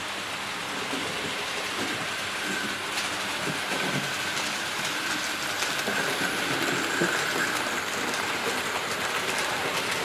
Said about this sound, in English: Here comes the loco